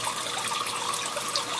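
Water running steadily and a little fast out of the return of an aquarium denitrator, a continuous close splashing rush with no pauses.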